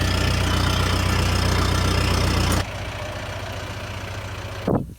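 A Ryobi riding lawn mower engine runs loud and steady, then drops abruptly to a quieter running hum partway through, with a short surge just before the end.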